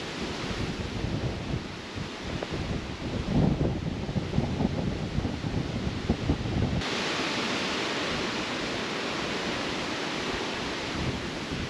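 Strong wind blows across a lake while kayak fishing at High Point Lake, Pennsylvania, producing a constant loud, broadband rushing roar with gusty buffeting on the microphone and no talking.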